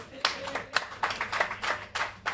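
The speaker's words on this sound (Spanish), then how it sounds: "A un fuerte aplauso" Hand claps ring out at a book presentation, a handful of distinct irregular claps rather than a full crowd wash, fairly close and moderately loud.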